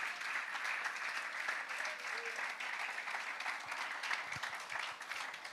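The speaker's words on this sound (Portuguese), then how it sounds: "Quantos podem aplaudir o Rei dos Reis e Senhor dos Senhores esta noite?" Steady church applause for the King of Kings fills the room, a dense sustained clapping crowd that holds level throughout without pause.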